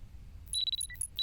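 Alarm notification chime during a livestream of the horror game Parasocial, a quick run of bright high-pitched beeps and tones heard over a low background rumble, with no talk.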